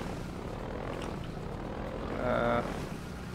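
Helicopter in the video game Half-Life 2, a steady droning rotor and engine roar filling the clip, holding loud and continuous, with a brief tonal whine rising near the end.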